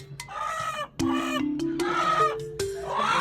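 An agitated domestic hen clucking and squawking loudly up close, a run of harsh, rising calls broken by brief sharp knocks, with no talk over it.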